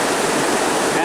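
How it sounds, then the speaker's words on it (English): Waterfall at Bonfante Falls in Gilroy Gardens, a steady, loud, close rush of falling water filling the whole moment with dense, unbroken hiss and roar. "next to the waterfall"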